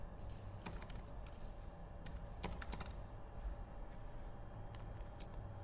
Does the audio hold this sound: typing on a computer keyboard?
yes